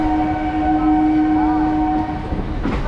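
A Belur Math local passenger train pulling out of a Kolkata-area station sounds a long, steady horn tone over a loud rolling rumble, with the horn easing off and clattering wheel noise rising toward the end.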